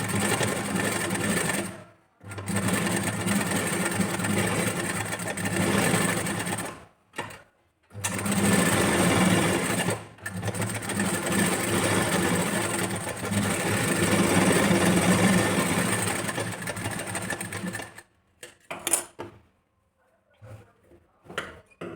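A sewing machine stitches blouse katori pieces together in long steady runs, pausing briefly between seams, with a fast, even mechanical whir heard up close and a few short bursts and handling noises at the end.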